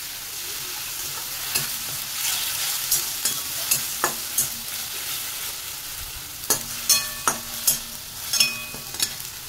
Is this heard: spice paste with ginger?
yes